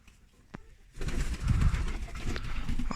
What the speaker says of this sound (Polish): I dlatego gołąb wyleciał.